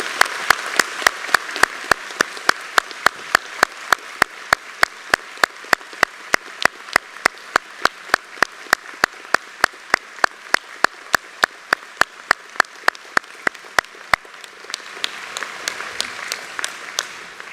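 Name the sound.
audience applause for graduates at a graduation ceremony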